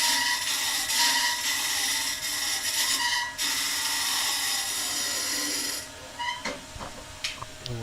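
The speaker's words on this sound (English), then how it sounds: "We'll stop the lathe there and have a look." Wood lathe turning a piece under light finishing cuts, a hissing, scraping tool sound with rhythmic pulses, loud for several seconds before the cutting stops and only scattered clicks remain.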